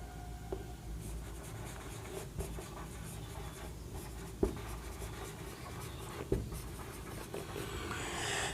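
Marker or chalk writing on a board during a Class 10 chemistry lesson, a faint steady scratching with a few sharp taps, close and quiet, with no talking over it.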